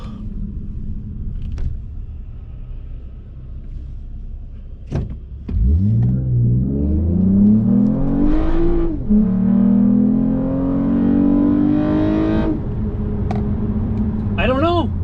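A tuned Toyota Camry accelerates hard, its engine note climbing steadily through the gears with brief dips at the shifts, loud and close inside the cabin, with a few faint clicks before it pulls away.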